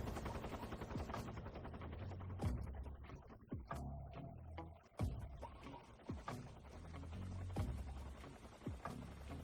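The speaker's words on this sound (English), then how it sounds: "That helicopter's fucking loud" Helicopter rotor and engine noise from the video game Metal Gear Solid, a loud continuous drone with sharp gunfire-like bursts and clicks over it.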